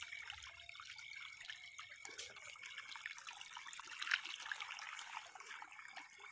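Water runs from a tap at a vegetable market, a soft continuous splashing trickle with faint dripping, fairly quiet and steady throughout.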